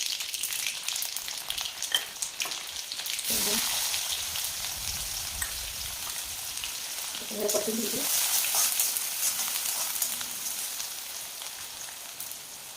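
Cumin seeds hitting hot oil in a pan, setting off a loud, steady broadband sizzle that carries on throughout, with brief louder bursts as the seeds crackle, close and continuous.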